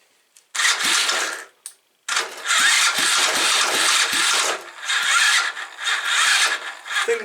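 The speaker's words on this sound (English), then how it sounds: "I want to see it turn with a starter motor" Starter motor cranking a 110cc go-kart engine, a loud steady whirring churn in two spells: a one-second burst, a short blip, then about five seconds of continuous cranking with a pulsing rhythm, close to the mic.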